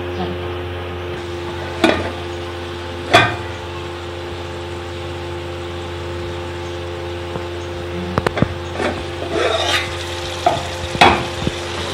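Chicken cooks in masala in a pan with a soft continuous sizzle, punctuated by a few distinct scraping stirs and clinks of a spoon against the pan.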